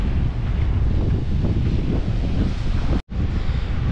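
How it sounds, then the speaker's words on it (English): Strong coastal wind at Brooms Head beach, New South Wales, buffets the microphone in a continuous, rumbling roar, with a brief dropout near the end and no voices. "That's how windy it is when the seagulls don't even want to fly."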